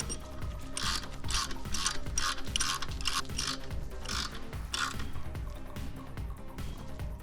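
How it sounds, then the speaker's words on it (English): A ratchet wrench tightens a stabilizer bolt on a Harley, giving steady rhythmic pawl clicks in repeated strokes, close and clear over a low background hum. "Before you put a wrench on it, make sure that you have a few threads seated."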